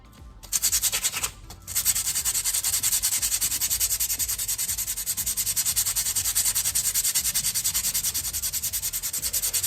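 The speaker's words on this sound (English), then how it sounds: "These are the semi-metallic pads, which do rust, but sanding this like this exposes" Sandpaper scrubs steadily across semi-metallic brake pads from a Honda Prelude, a close, continuous rapid rasping that breaks off briefly near the start and then resumes without pause.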